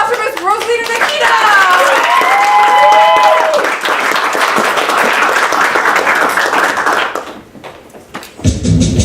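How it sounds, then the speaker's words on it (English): An audience at a burlesque show applauds a performer with dense, loud clapping over music and voices, which thins out and fades near the end. "Round of applause for Miss Rosalita Nikita!"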